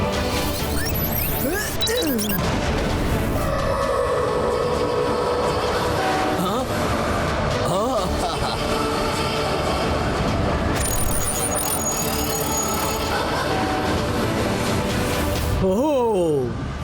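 Cartoon train rolling through a desert with a continuous loud rumble and clatter, a few swooping effects and crashes mixed in, while a character speaks over it.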